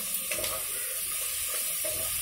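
Peanuts and coriander frying in a pan give a steady, dense sizzle that hisses continuously without pause, close and fairly loud.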